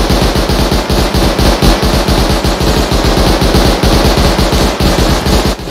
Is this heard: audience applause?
no